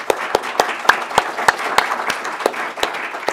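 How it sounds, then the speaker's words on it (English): An audience at a policy panel event on dams gives a round of applause, sharp individual claps rising from a continuous wash of clapping that grows thinner toward the end. "I think they deserve one last round of applause."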